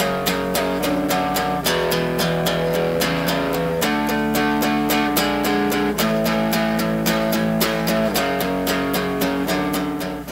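Electric guitar plays the third line of a beginner rock riff, steady rhythmic picked notes and chords with a regular pulse, loud and close, continuing without pause and no talking.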